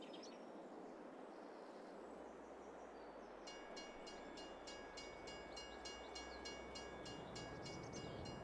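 A train rolls along the Frankenmuth map in Farming Simulator 22, a faint, low steady rumble with a rhythmic run of metallic clacks as the wagons pass.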